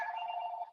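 A single faint telephone ring sounds in a home, a steady electronic tone lasting under a second before it cuts off, with no voices over it.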